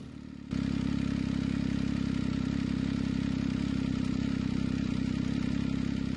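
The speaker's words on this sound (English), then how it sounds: "The MV Augusta F3." An MV Agusta F3 three-cylinder motorcycle engine starts up abruptly and settles into a loud, steady, close-up idle with a dense low rumble and fine mechanical chatter.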